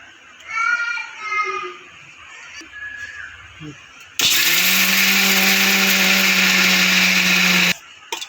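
A kitchen mixer grinder whirs loudly and steadily for several seconds as it grinds dry peanuts for chutney, preceded by brief quiet speech and ending abruptly.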